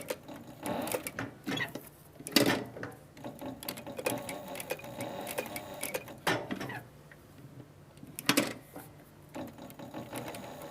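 Sewing machine with a size 12 needle stitching a snowflake trim pattern on leather for a Christmas ornament, a steady close mechanical whirring with rhythmic needle clatter and a few louder thumps.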